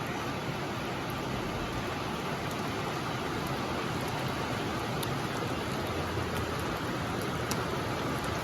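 Steady rain falls throughout, a dense, even hiss with no pauses and no voices.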